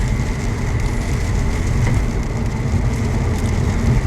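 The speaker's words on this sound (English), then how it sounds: "It's rain, rain," Steady rain falls on a harvest day in Canada, a dense, even hiss that stays close and constant throughout with no voices.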